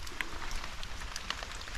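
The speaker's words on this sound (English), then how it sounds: "It's lashing down." Heavy rain patters down on surfaces on open moorland, a dense steady hiss with scattered close drop impacts, faint and without voices.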